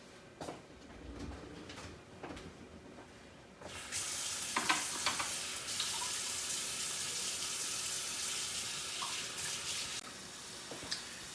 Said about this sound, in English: We're waiting for this chorizo to be cooked, and you can hear that sizzling really nice